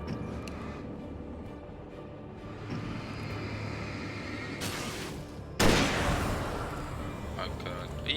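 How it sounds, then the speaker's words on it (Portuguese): Sniper rifle shot fired in the video game Alan Wake, a single sharp loud blast near the middle followed by a long ringing decay, set against a low rumbling game ambience with softer earlier bursts. "Gastei um tiro de sniper à tela."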